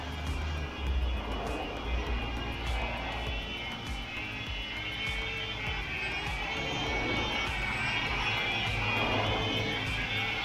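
A CZ02 Black Ant 3.5-channel RC helicopter flies indoors, giving a steady, loud whirring buzz of small rotors and motor that holds throughout with slight swells, with no voices heard.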